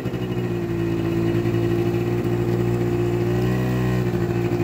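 A TGB Bullet scooter engine revs steadily while riding on a flat stretch, with a loud, continuous mid-pitched drone that holds at high RPM. The scooter has a fault that makes it stall at high revs under load, and no one speaks.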